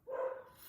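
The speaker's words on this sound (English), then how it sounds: "Excuse my dog if you can hear that." One short dog bark, quiet and slightly distant, rises quickly and fades into low room noise.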